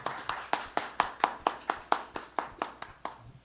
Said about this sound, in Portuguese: peço já aplausos de boas-vindas a Edmilson Caminha